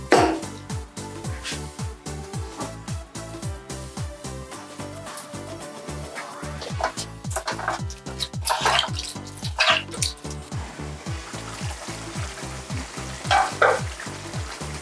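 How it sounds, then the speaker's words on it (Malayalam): Kerala chicken stew with potato and carrot cooks in a pan, a steady close sizzle and bubbling simmer with occasional stirring scrapes and clinks over the top. "ചിക്കൻ വെന്തുകൊണ്ടിരിക്കുകയാണ്. പൊട്ടറ്റോയും ക്യാരറ്റും ഒക്കെ വെന്തുകൊണ്ടിരിക്കുകയാണ്."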